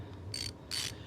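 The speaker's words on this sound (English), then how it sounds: "Now we can get on there with our ratchet" A hand ratchet tightens the idler pulley bolt on a Ford Focus: two short, close, faint bursts of clicking, separated by a brief pause, over a quiet low background hum.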